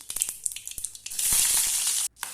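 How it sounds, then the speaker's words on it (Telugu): Mustard seeds and cumin splutter in hot oil for a leafy amaranth stir-fry, first as a quick run of sharp crackling pops, then as a dense steady sizzle that cuts out abruptly near the end. "ముందుగా ఆయిల్ వేసి ఆవాలు జీలకర్ర వేసుకోవాలి"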